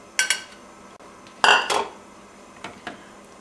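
Metal spatula scraping and clinking in a pan while mixing meat into sauce, a few separate sharp scrapes and clanks with quiet gaps between them.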